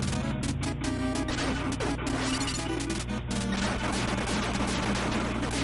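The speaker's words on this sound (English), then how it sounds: "3 shots, and the reactor is gone." Dense, continuous barrage of crashing blasts and gunfire from the Top Secret video game as a nuclear reactor is shot and destroyed, loud and unbroken throughout, with a low droning rumble underneath.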